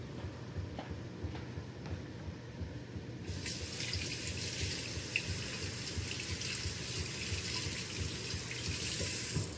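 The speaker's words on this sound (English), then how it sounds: "I'm going to rinse my potato." A potato being rinsed under a running kitchen tap gives a continuous close water splash that grows fuller and louder partway through as the flow hits the potato and sink, with no voices.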